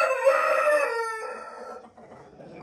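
A champion rooster scored at 96 points crows once, loud and close, a bright sustained call that breaks off partway, followed by quieter farmyard clucking.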